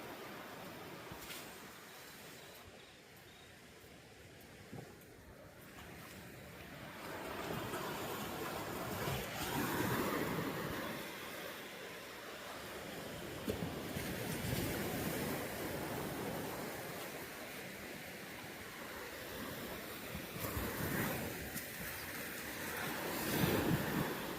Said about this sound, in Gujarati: તો મહેશ જાય છે હવે દરિયાની અંદર